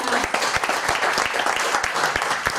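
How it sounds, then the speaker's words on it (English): An audience at an evening presentation gives a round of applause, dense overlapping clapping with a few sharper individual claps standing out, steady and fairly loud throughout. "Round of applause for our guests."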